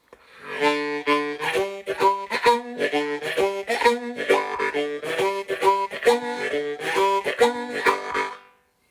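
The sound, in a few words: harmonica draw and blow chord rhythm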